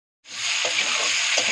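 Papaya pieces with salt and turmeric sautéing in a pan for a papaya and potato curry, giving a steady, close hiss of sizzling with a couple of soft stirring scrapes.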